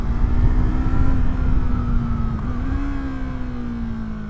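A Yamaha MT-03's 321cc parallel-twin engine pulling steadily under acceleration, a loud continuous drone whose pitch rises and dips slightly, with no talking.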